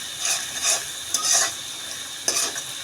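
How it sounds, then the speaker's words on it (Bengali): Chopped garlic and ginger sizzle in a hot pan while a utensil stirs them, with repeated scraping strokes over the steady frying hiss. "রসুন আর আদা দিয়ে দিচ্ছি।"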